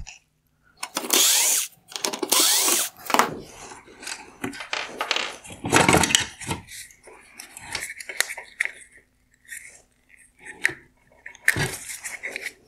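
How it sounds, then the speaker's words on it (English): Two T20 screws holding the AFS motor are driven out of a 2015-2017 Lincoln Navigator xenon headlight: close, intermittent bursts of scraping and grinding from the screwdriver, separated by short quiet pauses. "Next I need to remove the two T20 screws holding in the AFS motor."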